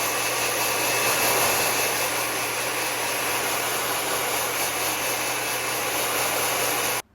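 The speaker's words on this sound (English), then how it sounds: "After I finished blow drying them" Hair dryer blowing on hair extensions, a steady loud whooshing drone with a constant motor whine that runs unbroken before cutting off abruptly at the end.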